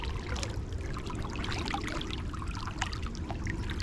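Stream water pours and gurgles over Nike React Pegasus Trail 4 GORE-TEX trail running shoes, a steady close rushing flow with small splashes throughout, fairly quiet.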